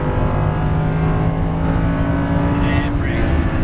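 Lamborghini Huracan LP610-4 engine pulling hard on track after an upshift, a loud steady droning roar heard from inside the cabin with a voice partly over it.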